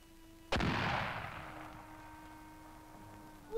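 A single loud shot from a tank cannon booms once, its blast rolling out and decaying over a couple of seconds against a quiet background.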